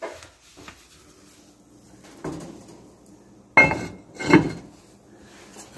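A lidded pot of leg of lamb stewing in bone broth is set back into an oven, giving a few sharp metallic clunks and knocks of pot and oven rack spaced out over quiet background, with no talk.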